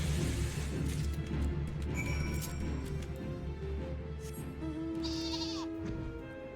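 Sheep bleating in Final Fantasy XIV, a couple of short wavering bleats rising over a steady game-music backdrop, moderately near and clear.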